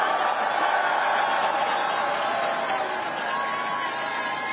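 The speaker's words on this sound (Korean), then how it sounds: "우리 네 분 국회의원 앞으로 더 잘하라고 한 번만 더 박수 부탁드립니다." A crowd at a South Korean political rally gives sustained applause and cheering for four National Assembly members, a dense clatter of clapping with voices mixed in.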